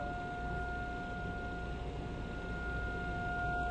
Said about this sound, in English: Es una ambulancia, 911.